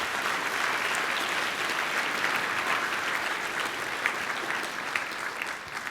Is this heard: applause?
yes